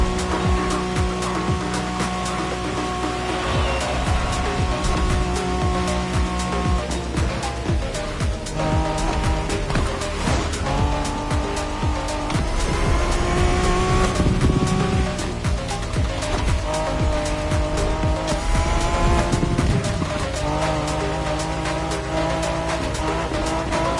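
A special Honda NSX race car roars continuously in The Crew Motorfest, engine droning loud and close with repeated tire squeals and skids, gear shifts changing pitch throughout.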